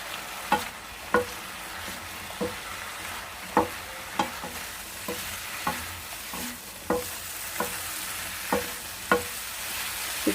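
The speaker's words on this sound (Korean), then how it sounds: "양파 볶다가 표고 다 넣어줍니다." Onion and shiitake mushrooms stir-frying in bulgogi sauce over medium heat with no oil, a continuous sizzle punctuated by regular clicks and taps of a spatula on the pan, close and unaccompanied by speech.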